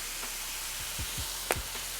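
Garlic sizzling in a pan for chili: a faint, quiet hiss with a few soft stirring scrapes and one brief clink near the middle.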